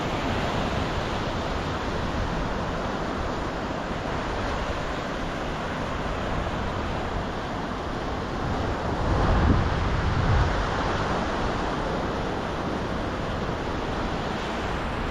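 Surf rolls steadily onto a long beach in Sihanoukville, Cambodia, a continuous wash of waves mixed with wind buffeting the microphone, swelling briefly louder near the end.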